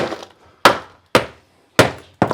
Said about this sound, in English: A couple taps with the hammer,